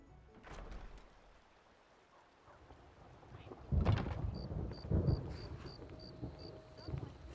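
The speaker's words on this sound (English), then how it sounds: "What's that thunder I heard?" Thunder rolls through the Skyrim game world, a heavy low rumble that swells midway and lingers, with faint rain and wind beneath and brief game voices around it.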